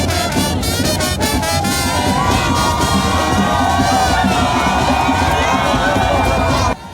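A large outdoor crowd in Cameroon cheers and shouts as Emmanuel Macron passes through, a dense continuous roar of voices with whoops, loud and close throughout.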